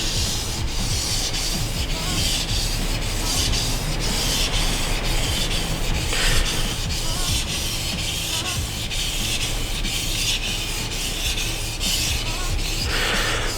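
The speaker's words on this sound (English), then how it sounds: "all I'm doing is applying pressure as I push the knife away from myself, release pressure as I come back" A Santoku knife is drawn repeatedly across a whetstone, giving steady gritty rasping strokes in a continuous back-and-forth rhythm, close and fairly loud, with no speech.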